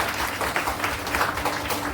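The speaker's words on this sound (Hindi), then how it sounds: "उनके लिए एक बार जोरदार तालियां दूं" Applause from an audience gathered at an education welfare association event, a steady dense wash of many hands clapping together with no voices over it.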